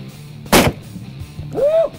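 A single sharp, loud Smith & Wesson 500 revolver shot cracks out at close range, followed by a short quiet pause and a brief rising-falling tonal sound afterward.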